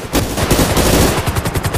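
Rapid, continuous bursts of video game gunfire, loud and dense, with shots overlapping in quick succession.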